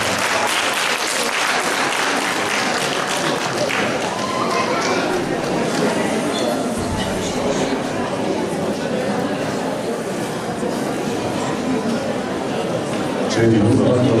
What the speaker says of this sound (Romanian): Mulțumim încă o dată pentru aplauze.